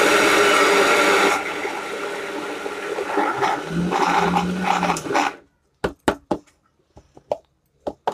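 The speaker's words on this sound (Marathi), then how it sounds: "डाळ अशी मिक्सरला बारीक करून घ्यायची." A kitchen mixer grinder churns dry lentils (dal) with a loud, gritty roar for about five seconds, then stops, followed by several sharp knocks and taps on the jar.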